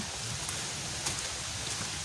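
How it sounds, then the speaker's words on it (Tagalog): Steady rain hissing evenly throughout, a soft continuous patter with no voices. "Umuulan na."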